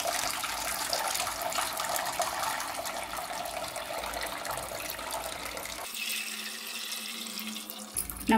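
Boiled noodles are rinsed under plain room-temperature tap water, a steady loud gush of running water splashing into a sink, then shifting to a thinner trickle near the end, with no speech.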